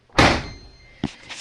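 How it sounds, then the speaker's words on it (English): Door of a 2019 Samsung WF45N5300AW front-load washing machine shut after loading microfiber towels and rags: one firm, close thud, then a smaller latch click about a second later. "and close the door."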